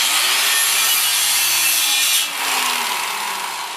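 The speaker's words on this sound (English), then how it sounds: "it's easy for me to just kind of basically drag the grinder across this bead here" An angle grinder drags across the bead of a 16.5-inch Jeep wheel bead lock, cleaning off weld splatter with a loud, continuous abrasive hiss and grind that shifts slightly in pitch midway.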